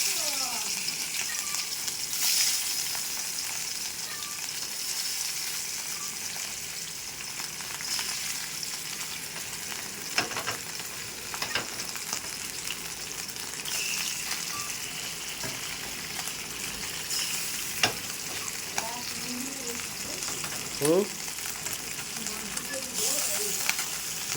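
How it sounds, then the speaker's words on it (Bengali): Bata fish sizzle steadily in a frying pan with hot oil, a constant crackling hiss with occasional sharper pops and brief clinks throughout. "আমি এখন মাছগুলো ভেজে নেব বাটা মাছগুলো"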